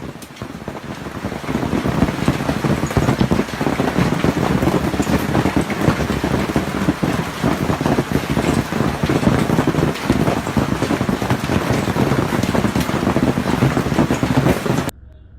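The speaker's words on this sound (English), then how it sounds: "A sudden hailstorm hit Canberra." Hail pelts the streets of Canberra in a sudden storm, a dense, loud, continuous patter and rattle with gusty wind noise throughout.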